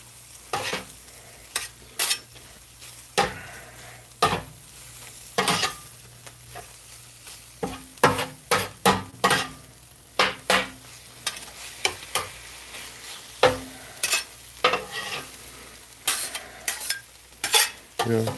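Cheesesteak meat and fixings frying on a flat griddle, a steady sizzle under repeated scraping and stirring strokes of a metal spatula, close and fairly loud with no talking.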